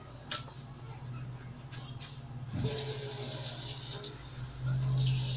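Tap water runs from a kitchen sink into a measuring cup as a tanghulu syrup is made, a steady splashing rush that swells after a few soft clicks over a low background hum.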